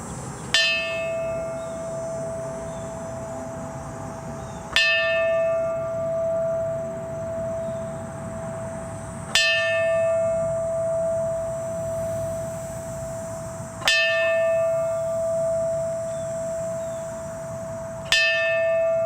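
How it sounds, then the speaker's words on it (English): A memorial bell tolls slowly for a 9/11 remembrance ceremony, five clear, resonant strikes spaced about four and a half seconds apart, each ringing out and fading into the next, with no talking. "we ring the bell calling them home in remembrance of all of them"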